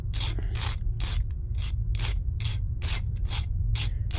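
A 3D printed fin disc is rubbed in circles against a steel plate, giving a steady series of short, rhythmic scraping strokes about twice a second over a constant low hum, close and moderately loud, with no talking.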